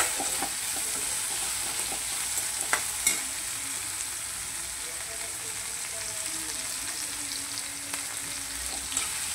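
Spring onions stir-frying on high flame in a thin wok: a constant hissing sizzle with occasional clatters and scrapes of stirring, close and moderately loud.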